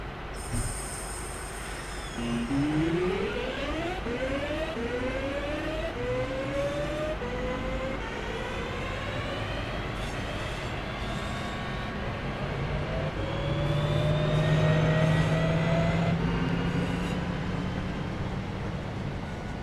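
Class 323 electric train in the video game Train Sim World 6, on the Glossop line. Rising traction-motor whines sweep upward in stepped tones over a steady rumble, clear and unaccompanied by talk.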